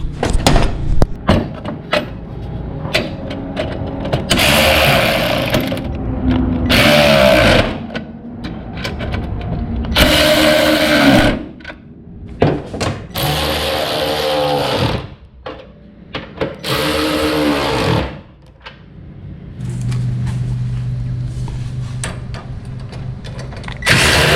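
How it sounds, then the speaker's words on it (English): Mechanical clatter and bursts of tool noise come from work on a 1977 Pontiac Trans Am's AC accumulator as bolts are tightened, with repeated loud ratcheting and whirring passages separated by brief pauses. "I got my accumulator all tightened down where I want it to be"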